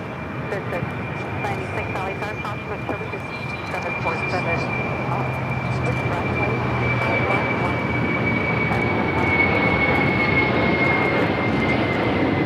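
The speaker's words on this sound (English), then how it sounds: "we do get that Atlas Air Queen now rolling down 25 right" An Atlas Air Boeing 747 freighter rolls down runway 25 right at LAX on its takeoff run, a broad jet roar with a high whine that swells slowly and stays loud.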